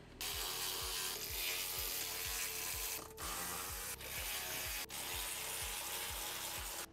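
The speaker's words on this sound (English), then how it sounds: "Using a T40, we're going to remove these six screws here that hold the plastic" A power driver with a T40 bit spinning out the screws that hold the plastic floorboard to the frame of a Polaris RZR Pro R, a loud steady whir broken by brief pauses between screws.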